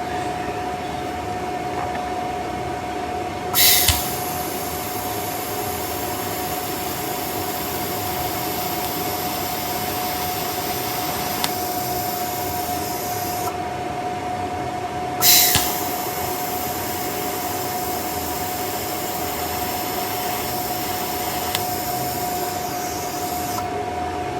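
TIG welding building up worn scraper bars gives a steady, even electric buzz and hiss with a constant tone, with two brief louder flares as the arc restarts, close by with no talking.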